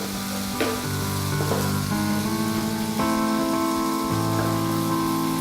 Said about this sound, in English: In the meanwhile, more stirring on the risotto.